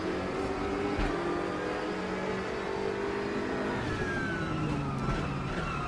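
GT3 race cars lapping Spa in RaceRoom, a dense pack of engines droning and shifting pitch together at steady volume as they sweep toward a hairpin.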